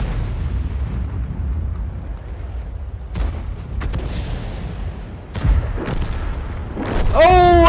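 A 155mm artillery shell from a T92 HMC self-propelled gun explodes in World of Tanks. Low rumbling booms build to a loud burst around the middle, with a rising whine at the end.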